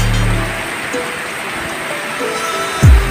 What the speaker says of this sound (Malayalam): ഇവിടെ കാണാം നല്ല മഴയാണ്